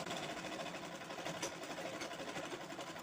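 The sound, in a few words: sewing machine stitching cloth for a potli bag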